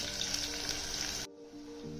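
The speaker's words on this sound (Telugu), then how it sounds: "ఇప్పుడు ఆనియన్స్ మంచిగా బ్రౌన్ కలర్ వచ్చేంత వరకు ఫ్రై అవ్వాలి" Onions fry in a pan for a meal maker pulao with a steady, close sizzle that cuts off abruptly partway, leaving a quieter, softer simmer afterward.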